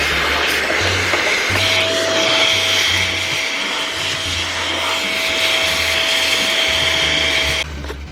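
An electric air blower cleans out the inside of a long arm quilting machine, giving a steady, loud, continuous whoosh of rushing air with a thin whine that holds for several seconds before cutting down near the end.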